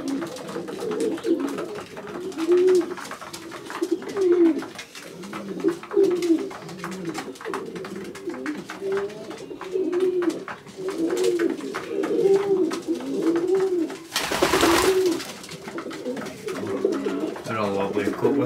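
Racing pigeons coo steadily in their loft, a near, repeated rolling murmur of several birds overlapping throughout, with someone talking softly now and then and a brief burst of handling noise near the end.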